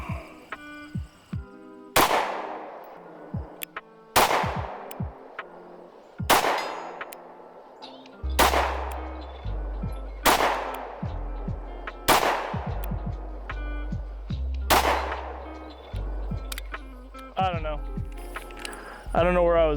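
A CZ P-10 M pistol fires about eight single shots at an outdoor range, each a sharp loud crack with a ringing decay, spaced a couple of seconds apart.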